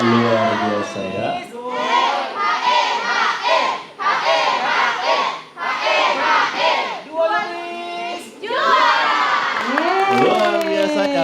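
A crowd of Simalungun supporters shouts rhythmic chanted yells at a children's preacher academy grand opening, loud group bursts in repeated phrases with short pauses between them.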